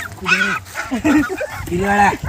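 High-pitched whines and yelps from two puppies found in a cave come in short bursts close by, with a person speaking between them.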